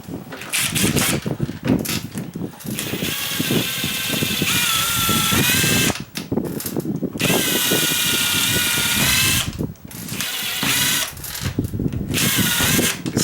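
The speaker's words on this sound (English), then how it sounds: "That's where I want the drill bit to go in." A power drill bores into an exterior house wall to mount a light fixture, whining loudly and steadily in long runs broken by a few short pauses, close by with no talking.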